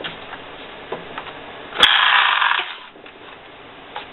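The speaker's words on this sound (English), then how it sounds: "move that carriage from right to left and it transfers the stitches for me" Carriage of a Singer sock knitting machine sliding from right to left to transfer stitches, a close mechanical whirring clatter lasting under a second amid scattered small clicks.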